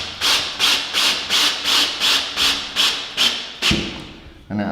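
A screw is turned by hand into a pre-drilled pilot hole in wood, about ten rhythmic rasping strokes at an even pace, close, followed by a soft thud.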